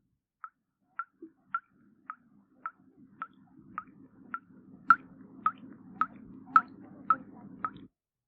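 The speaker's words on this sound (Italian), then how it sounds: "È il solito rubinetto che perde." A leaking tap dripping steadily, about fourteen crisp droplet plinks at an even rhythm over a faint low background hiss, close and clear.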